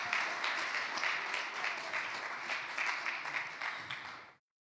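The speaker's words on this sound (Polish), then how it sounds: "Zapraszamy na scenę. Wielkie brawa." Audience applause at a climate conference as a speaker is invited onto the stage, a dense, even burst of clapping from the hall that lasts a few seconds and then stops abruptly.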